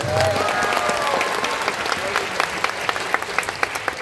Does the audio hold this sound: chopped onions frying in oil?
no